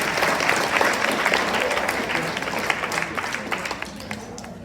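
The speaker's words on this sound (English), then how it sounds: "big round of applause and thank you to" A room full of people applauds steadily in thanks to the restaurant that cooked their meal, the clapping dense and continuous and tapering off slightly toward the end.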